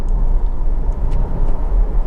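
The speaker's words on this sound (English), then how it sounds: "It's just got a lovely, really sweet engine note to it." A Honda CR-V 2.2 i-DTEC diesel engine running steadily, a loud, close, even low rumble with no talk over it.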